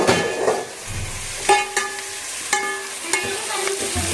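Onions for a vegetable biryani fry in a pan with a steady close sizzle, broken by a few sharp clinks and scrapes of a stirring utensil against the metal.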